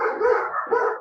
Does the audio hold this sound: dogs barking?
yes